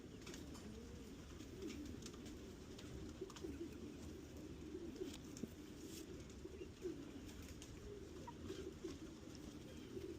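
Pigeons in a fly loft give soft, continuous, low cooing, heard faintly and at a distance under steady background noise.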